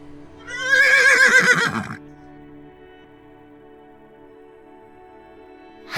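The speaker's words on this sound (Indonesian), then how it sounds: "Hai kuda, lu serang tuh si Jupri sekarang" A horse gives a loud, close whinny lasting just over a second, then the scene falls to a quiet low hum.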